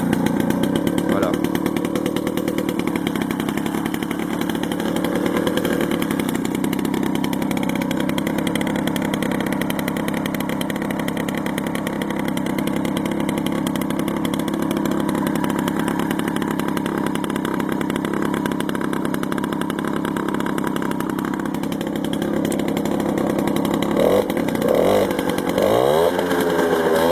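A Peugeot 103 MVL moped's two-stroke engine idles a little too low, a steady close buzzing drone that runs throughout and blips briefly near the end, with a voice talking over it.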